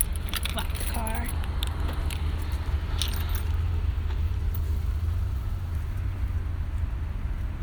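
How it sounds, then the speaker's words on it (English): Keys jangle briefly near the start as a car is locked, with a steady low rumble of a running engine or traffic underneath and some faint talk around it. "Lock the car."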